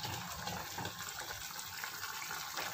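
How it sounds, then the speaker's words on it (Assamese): Curry liquid boils in a pot, a steady, faint bubbling hiss that carries on evenly for a few seconds with no voices. "এয়া উতলিছে।"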